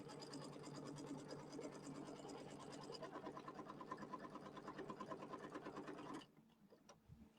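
An embroidery machine stitches a tack-down line on a pieced quilt block, its steady rapid needle chatter running loud and continuous for about six seconds before stopping abruptly, leaving quiet room noise.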